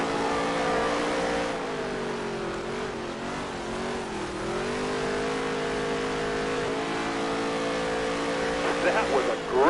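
Race car engines in NASCAR Heat 3 drone steadily and rise in pitch as they accelerate, a loud continuous roar of several cars with a slight wavering, with a voice talking over it.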